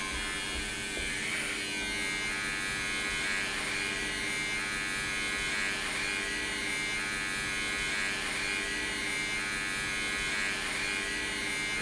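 Electric hair clippers cutting hair give a steady, close, unbroken buzz that runs the whole time, with no voices over it.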